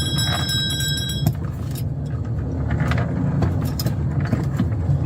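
A 2015 Honda Pilot on a test drive, its steady road rumble and tyre noise carrying on throughout. A few brief clicks and rattles ring out over the low hum, and there is no talk.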